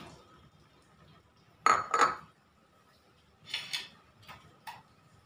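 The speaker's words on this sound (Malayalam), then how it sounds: "ഈ സമയത്ത് നമുക്ക് ഇതിലോട്ട് കുംബ്ലങ്ങ ഇട്ട് കൊടുക്കാം." Pieces of ash gourd drop into a cooking pot of half-cooked vegetables for a moru curry: two quiet clusters of clinks and clatters, the first sharper, then a few lighter taps, with no talking.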